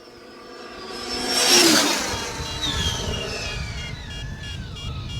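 An Arrma Infraction RC car accelerates hard on a wet road with its tires spinning, a high electric whine that swells loudly as it passes close, then fades with rising and falling pitch.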